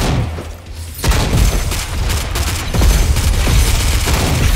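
Gunfire and booms from a Spider-Bot shooting in the Watch Dogs: Legion online Spider-Bot Arena, loud dense volleys that start after a brief quieter moment and keep on with heavy thuds.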